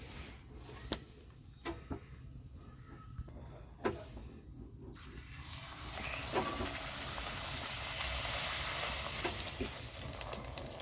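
Small puri (luchi) frying in hot oil: a low hiss with scattered clicks that swells after the midpoint into a steady, louder broadband sizzle, with no talking.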